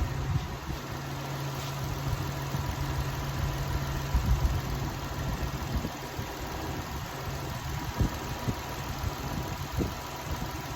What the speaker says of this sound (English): Yeah, it's sounding really good.